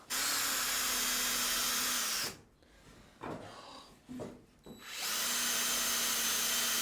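A power drill drives screws into wooden greenhouse staging at an allotment, with a long steady whirr, then a pause holding a few short scraping and rubbing noises, then the drill running again, loud and close.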